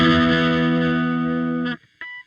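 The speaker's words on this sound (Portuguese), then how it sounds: "aí vocês veem aí como é que fica o som do Marshall limpo" A clean Marshall amp tone from a Hotone Ampero One rings out as a sustained, chorus-tinged electric guitar chord that cuts off, followed by a short second strum.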